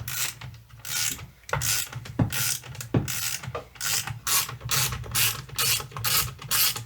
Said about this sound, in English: all I'm going to do is tighten up these nuts until my split washer flattens out